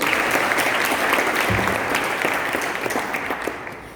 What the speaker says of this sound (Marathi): अधिवेशनसाठी एकदा जोरदार टाळ्या होऊन जाऊ